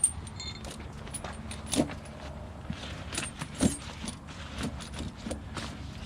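Metal tire chains clink and jangle in short bursts as they are handled and fitted over the outside of a vehicle tire, close and fairly quiet, with a car rumbling faintly behind.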